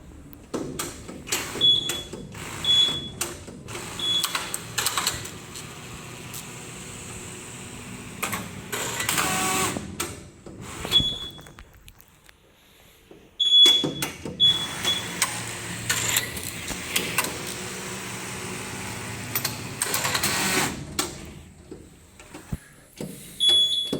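A computerized flat knitting machine runs a test after a solenoid check, its carriage clattering in repeated mechanical passes with short beeps. A brief quiet gap falls midway before the machine starts up again.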